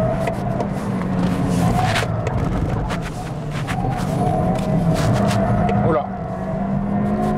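A Toyota Corolla Sport's engine pulls hard under full throttle, its loud, rising drone dipping briefly around a gear change, while someone speaks over it inside the car.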